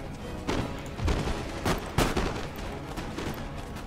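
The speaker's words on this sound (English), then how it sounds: "Fire by rank." Musket volleys fired by rank in the Empire Total War strategy game, France campaign, with several loud crackling bursts rolling out in quick succession over a steady battlefield din.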